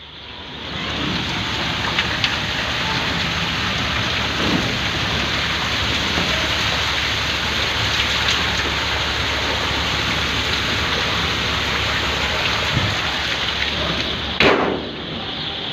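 Heavy rain falls outside a chick brooding house in cold weather, a dense, steady hiss throughout, with a brief louder rumble of thunder near the end.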